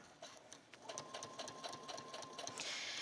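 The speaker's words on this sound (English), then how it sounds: "now I'm ready to give it a little sew" A sewing machine stitches fabric for a convertible swag cosplay skirt in a short, quiet burst, its rapid mechanical whir and needle clatter running steadily for a few seconds with no one talking.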